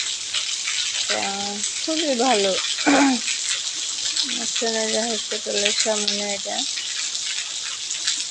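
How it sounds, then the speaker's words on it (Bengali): Heavy rain pours steadily in front of a hospital's main gate, a dense, continuous hiss filling the whole stretch while someone talks over it in several bursts. "দেখেন অনেক পরিমাণ বৃষ্টি হচ্ছে"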